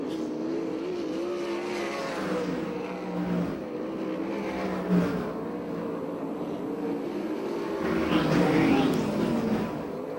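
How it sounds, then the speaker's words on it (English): USAC/CRA sprint cars race through the final lap at Perris, California, engines snarling and rising as cars pass, a loud continuous roar with a faint announcer voice underneath. "Last lap flag, 1 to go for Jones."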